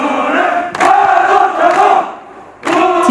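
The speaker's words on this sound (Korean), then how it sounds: "군기가 바짝 든 훈련병들의 목소리가 점점 더 커진다." Marine Corps recruits of a training class bellow a military song in loud unison, their massed voices swelling in long shouted phrases with a brief dip before the chant surges back.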